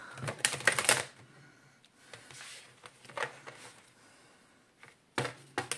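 Tarot cards shuffled by hand in quick papery bursts, a loud riffle at the start, softer rustling through the middle and another sharp flurry near the end, with no talking.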